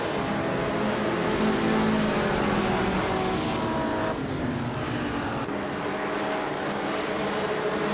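A 1957 Ferrari 250 Testarossa race car in a racing video game, its engine roaring steadily and loudly throughout, a continuous dense drone with a slight pitch shift partway, no talk over it.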